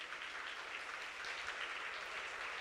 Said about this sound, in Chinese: 我们用热烈掌声来欢迎他们